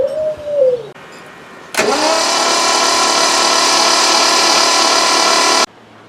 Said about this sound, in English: So I'm just going to turn it over without the plugs and